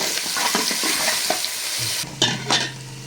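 Onions sizzle in a hot pan with ginger-garlic paste and spices while a spoon stirs and scrapes, giving a steady crackling fry broken by clinks and scrapes.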